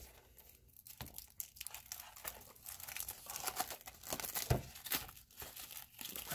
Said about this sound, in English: Let's unwrap it real quick.